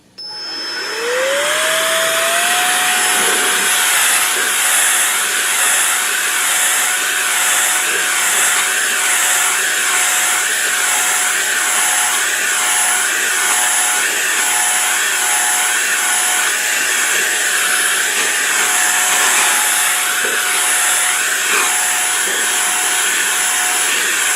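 A Roedix R7 electric air duster blows dust out of a computer, a loud steady high-pitched whine that spins up within the first seconds and then holds constant with a faint wavering, with no talk.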